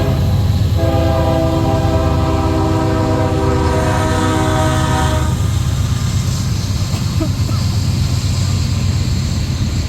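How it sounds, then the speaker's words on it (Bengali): A loud freight train rumbles past close by, its horn blaring for several seconds before the heavy rolling clatter carries on alone. "বিশাল সাইজের ট্রেন, এটা অনেকক্ষণ ধরে যাবে। এগুলো হচ্ছে সব মালবাহী ট্রেন।"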